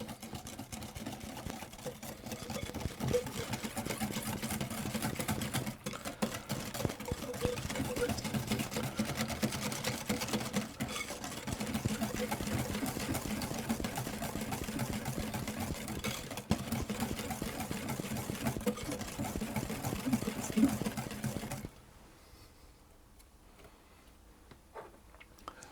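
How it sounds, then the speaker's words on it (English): Sugar whisked into yoghurt cake batter in a bowl, a steady, close rhythmic clicking and scraping that runs continuously before stopping abruptly near the end, leaving quiet room tone. "And I'll add in my sugar and whisk that until we've got that all fully combined."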